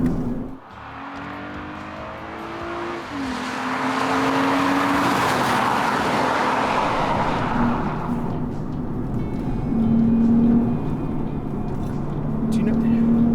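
Engine of a 2019 Lexus IS350 F Sport on a canyon road, revving and shifting through gears as the car climbs, heard from inside the cabin with steady road noise.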